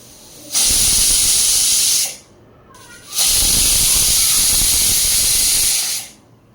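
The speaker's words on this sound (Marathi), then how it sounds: "इकडे कुकरच्या शिट्ट्या होत आहेत" A kitchen pressure cooker whistles while a batch of dalia kheer with milk cooks, giving two loud, sustained steam hisses of about two seconds each, separated by a short pause, close by with no talking.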